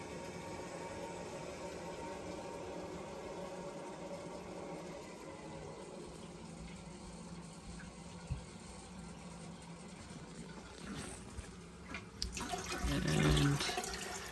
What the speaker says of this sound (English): we'll flush some clean water through for another 30 minutes